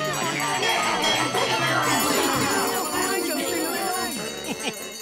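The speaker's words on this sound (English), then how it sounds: "Thanks to these bells in that dumb whale, Terra has a new sound" Bells ring continuously in the cartoon The Marvelous Misadventures of Flapjack, a loud, dense jangling chime with layered tones that fades slightly near the end.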